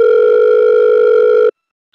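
A loud, steady telephone tone plays while a call is placed to the owner of a Maruti Suzuki Omni CNG van. It runs for a second and a half, then cuts off to near silence.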